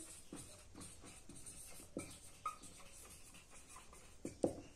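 Soft, faint scratching strokes of writing on a board during a physics lesson on Newton's laws of motion, in short irregular bursts with occasional light taps, in an otherwise quiet room.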